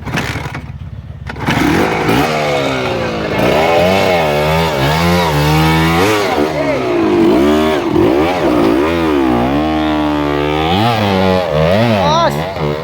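A dirt bike engine, a 125, revs repeatedly in rising and falling surges, loud and close, with throttle blips and steady idle between, over an outdoor trail riding gathering.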